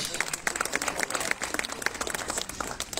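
An audience applauding at a village prize ceremony for Christmas illuminations and nativity scenes, a dense, steady patter of many hands heard from a distance under some speech.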